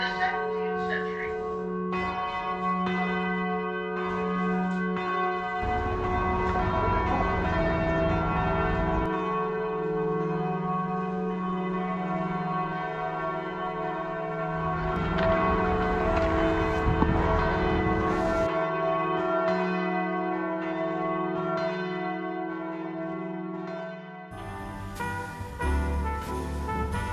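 Cathedral bell tower in Vilnius with its bells ringing loudly and continuously, layered tones with a strong low hum and repeated strikes sustaining throughout, and faint voices in the background.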